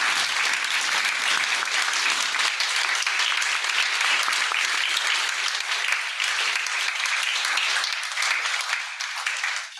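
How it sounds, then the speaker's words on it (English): An audience at a social care event applauds the care and ancillary staff, sustained loud clapping from many hands that runs nearly ten seconds before thinning slightly at the end. "So I'd like you to applaud."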